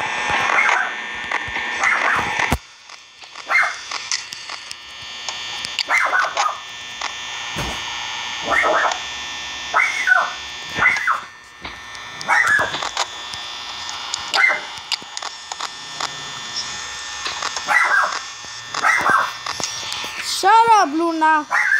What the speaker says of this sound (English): Sorry, my dog is in the bathroom.